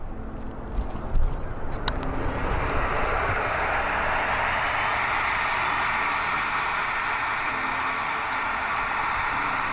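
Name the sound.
jet aircraft engine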